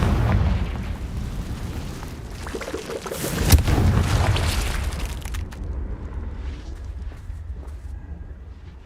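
A Confringo blast spell explodes in a video game, a deep booming burst with a sharp crack midway, followed by a rumbling, debris-like tail that fades toward quiet, no talking.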